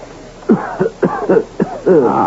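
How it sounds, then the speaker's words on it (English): Close up, someone gives a run of rough, heavy coughs and throat-clearing bursts, five or six in a row, the last one drawn out. "And I have been conscious of your heavy cough."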